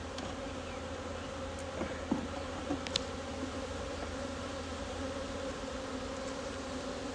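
Honey bees buzz steadily around an open hive during a February inspection, a close continuous drone with a few brief louder passes, no talk.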